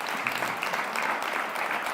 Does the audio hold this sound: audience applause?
yes